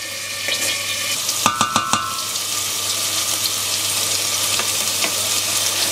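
Half an onion frying in sunflower oil in a pot for seafood chowder, a steady close sizzle with a few quick clacks of a spoon stirring against the pot.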